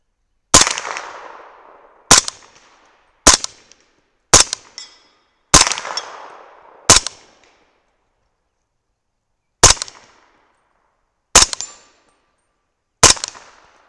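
A 300 BLK rifle fires powder coated bullets at steel plates outdoors, nine sharp, loud cracks in an uneven rhythm, each with a short ringing tail and silence between shots.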